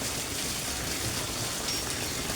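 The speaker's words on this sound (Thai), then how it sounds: "บ้านแม่น้องกระดาฝนตกเด้อพี่น้อง กำลังตกเลยพี่น้องเลยนะ" Steady rain falls outside a house, a dense, even hiss of drops that holds at a constant level throughout with no voices.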